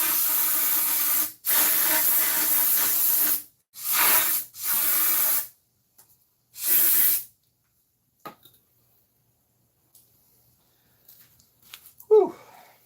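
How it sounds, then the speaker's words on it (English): Several sharp bursts of aerosol spray blast through a Mazda RX-7 engine oil pickup tube during a rebuild, loud hissing jets of a few seconds each with gaps between, followed by quiet handling clatter. "I'm going to spray through the tube one more time just to get any residual out."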